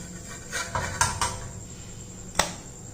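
A few light clinks and taps of kitchenware as a ragi roti with drumstick leaves is moved onto a plate, three or four brief, close knocks over a quiet background.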